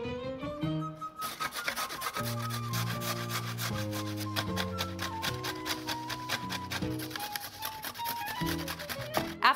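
Sweet potatoes, parsnips and carrots are rubbed against a grater in quick, even rasping strokes, close and continuous, under background music.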